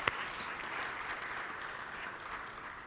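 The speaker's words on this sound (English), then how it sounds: "A round of applause for everyone, please." Applause for a plenary panel on drone integration into supply chains, a soft, even spread of many hands clapping at a distance, with a single sharp click at the start.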